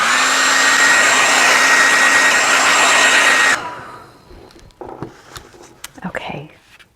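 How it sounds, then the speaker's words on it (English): A hair dryer blows steadily and loudly over a wet watercolour painting for a few seconds, then cuts off, leaving faint handling noises and soft clicks. "I'm going to put my hair dryer on and dry that just a little bit."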